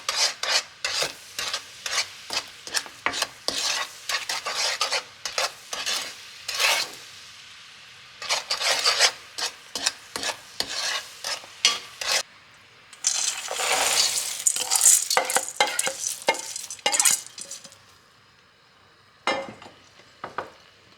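Sugar syrup for nut gangjeong bubbles in a pan while a utensil stirs it in rapid scraping, clattering strokes, coming in bursts separated by short pauses, close up and without talk.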